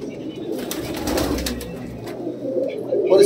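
Pigeons, desi breeds kept for sale, coo steadily in a low murmuring chorus, with some wing or cage rustle and a few brighter sounds near the end.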